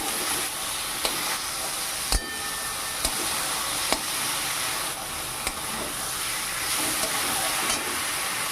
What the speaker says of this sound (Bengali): কলা আলুটা দিয়ে দেবো এবার মশলার সঙ্গে একটু কষিয়ে নেব